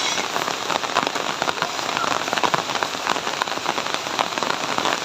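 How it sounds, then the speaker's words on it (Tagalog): Heavy rain falls steadily during a San Juan festival day in the Philippines, a dense, loud, continuous patter of drops on surfaces and wet ground with no break. "So kanina malakas talaga ang ulan."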